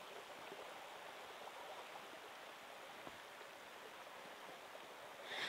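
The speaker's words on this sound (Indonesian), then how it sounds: "Hujan ya, teman-teman." Rain falls by a riverside at night, a steady, faint broadband hiss of rain and flowing water continuing evenly throughout with no voices.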